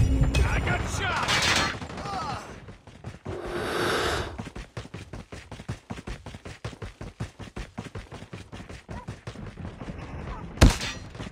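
Call of Duty gunfire during a Shoot House match: rapid, even bursts of automatic shots rattle for several seconds, with a louder single crack near the end and breathy game voice sounds earlier.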